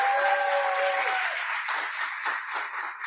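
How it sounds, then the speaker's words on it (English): Audience applause for a student team at a university mechatronics lab challenge, a dense, steady burst of clapping from a crowd that tapers slightly over a few seconds. "Round of applause for them."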